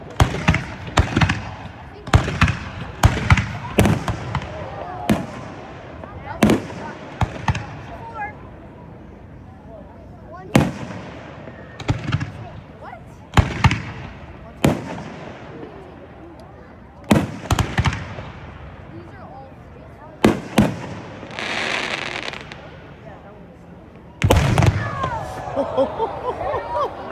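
Fireworks display at Angell Park: repeated sharp bursts and booms, some in quick clusters and others spaced apart, echoing outdoors, with crowd voices and talk between blasts.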